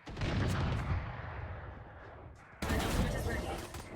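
Dense, continuous gunfire from a competitive shooter video game match: heavy, overlapping bursts that dip briefly and then surge back loud.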